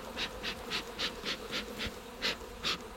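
Bees buzzing in short pulsing bursts near an apiary, about ten soft rising-and-falling hums over a low background, close and fairly faint.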